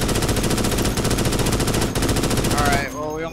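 Rapid automatic gunfire from Starship Troopers: Extermination, a dense, loud continuous burst lasting nearly three seconds, then cutting off into softer tonal game sounds.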